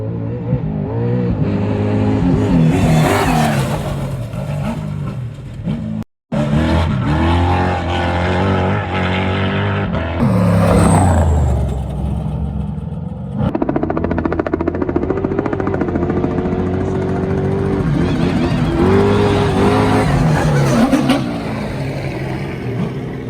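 Off-road race trucks roar down a desert wash at King of the Hammers, loud engines revving and surging past one after another, with a brief break in the noise partway through.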